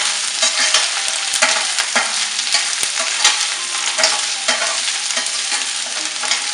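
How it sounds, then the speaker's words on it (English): Ivy gourd (tindora) sautés in oil, a loud continuous sizzle broken by frequent scraping and stirring strokes of a utensil in the pan, close and without any voices. "Saute it for like 1 minute till it absorbs all the oil"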